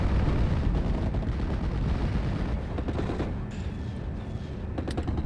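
Artillery and mortar fire in the Steel Division: Normandy 44 war game, a dense, continuous rumble of booms and gunfire rolling on for several seconds with sharper cracks near the end, loud and close with no talk over it.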